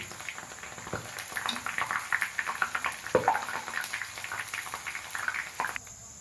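Garlic mixture dough deep-frying in hot oil, giving a busy, bubbling crackle that rises and falls and runs steadily until it drops away near the end.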